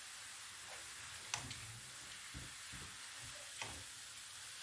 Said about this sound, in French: On mélange un petit peu.